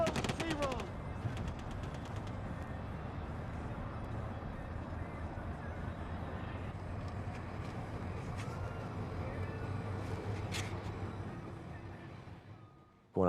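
Distant firefight in Afghanistan: a steady, faint wash of scattered gunfire and rumbling noise running throughout, with occasional sharper cracks and muffled radio-style voices mixed in.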